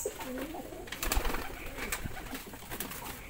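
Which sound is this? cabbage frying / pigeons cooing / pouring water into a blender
pigeons cooing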